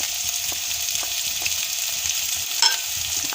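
Carrots, raisins and almonds fry in ghee for Afghani mutton pulao, giving a steady close sizzle throughout with a brief clink of a spoon stirring near the end.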